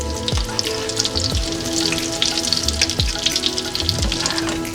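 Fish cakes sizzle and crackle steadily in a frying pan of hot oil, a close, continuous fry with occasional low knocks of the pan or utensil.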